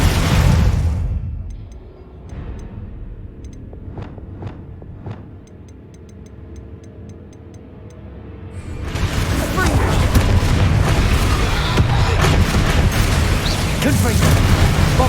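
Spell blasts from Confringo and Bombarda in Hogwarts Legacy: a loud boom opens, then several sharp cracks pop in a quieter stretch before a heavy, sustained roaring explosion takes over.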